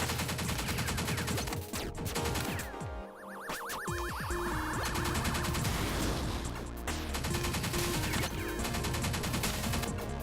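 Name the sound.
gunfire in video game Pineapple Smash Crew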